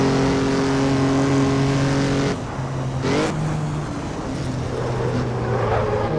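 A Jaguar C-Type race car engine roars loud and close around the Feldbergring in Assetto Corsa, holding steady harmonic drones, then dropping off and surging again through gear shifts and revs.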